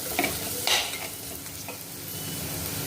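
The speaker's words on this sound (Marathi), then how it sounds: "जिरा पावडर टाकूया। छान परतून घ्यायचं आहे।" Red chili powder and cumin powder sauté in a pan, a gentle sizzle under a couple of brief scraping stirs near the start, quiet and close with no speech.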